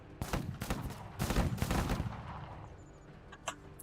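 Pipe guns firing in the strategy game Menace, a quick burst of several close, loud shots in the first two seconds, then tapering into quieter impacts and a lone late crack.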